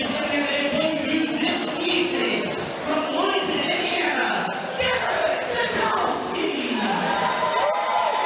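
A crowd at an amateur 185 lb MMA fight event cheering and shouting as a fighter is introduced, a dense continuous roar with a voice over a loudspeaker woven through it.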